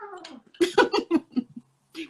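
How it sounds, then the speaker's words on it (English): A pet cat yowls and grumbles in protest as a dog pesters it indoors, a loud, close run of strained, gargly cries and growls breaking into short bursts, then a brief pause before another cry. "The dog is trying to get with my cat and mess with the cat."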